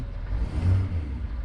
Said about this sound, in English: Let's rev it up a bit for a second.